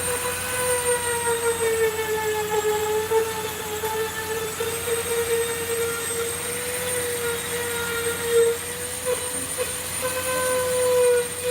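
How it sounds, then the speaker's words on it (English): A Dremel rotary tool fitted with a felt sanding wheel whines at a high, steady pitch throughout, with a slight waver in speed and faint scraping against the workpiece. "I'm using a felt wheel on the Dremel."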